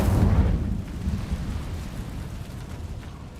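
Fiery blast of the Incendio spell in Hogwarts Legacy, a loud low rumbling burst that swells at the start and then rolls on as a steady roar, fading only slightly over a few seconds.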